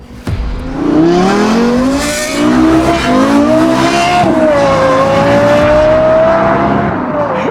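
A Lexus LFA's high-revving engine screams loudly and continuously, its pitch climbing and wavering as the throttle is held open, with some tire noise underneath.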